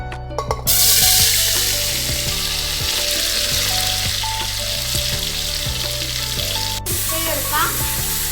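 Tomatoes and small onions frying in a pressure cooker for fish biryani masala, a loud, steady close sizzle from start to finish with occasional stirring clinks and no talk.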